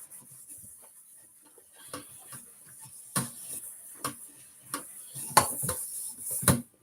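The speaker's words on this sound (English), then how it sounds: "I want to get ready the pot to be using for the sauce." A metal cooking pot for meat-pie sauce is handled in a home kitchen, with scattered sharp clanks and clinks building toward louder knocks, and no voices.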